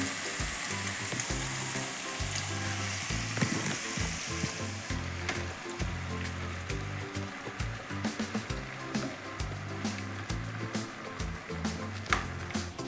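Curry leaves and freshly ground masala fry in hot oil for village-style egg sambar, giving a loud, close, continuous sizzle. Crackling bursts come and go as the mixture is stirred.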